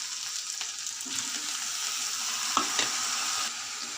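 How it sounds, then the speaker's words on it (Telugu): Chopped tomatoes frying in a pan of potato and fenugreek-leaf curry, giving a steady close sizzle with a couple of brief stirring clicks and scrapes. "ఇప్పుడు కట్ చేసుకున్న టమాటాలు వేసుకుందాము."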